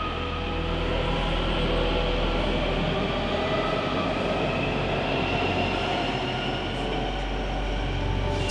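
A subway metro train rumbles loudly and steadily from inside the car, a continuous roar of wheels and motor with no break and no voices.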